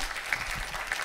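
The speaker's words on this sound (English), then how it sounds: "Let's give them a round of applause." Brief, fairly faint audience applause for a panel at a climate governance summit, a short wash of clapping with no voices.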